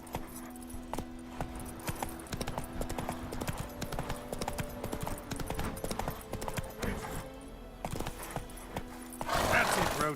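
Horse hooves clip-clop at a steady trot in The Witcher 3, the game mount's rhythmic footfalls running through the whole stretch, with faint tack jingling, and a louder burst of noise near the end.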